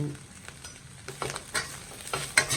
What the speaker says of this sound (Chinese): 随后我们再下上梅干菜， 随便给它翻炒2下